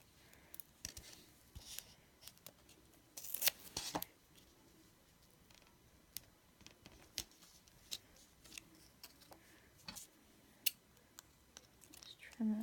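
Paper being trimmed with scissors in a quiet room during holiday tag stamping, with faint, scattered snips and rustles and one louder crisp cut.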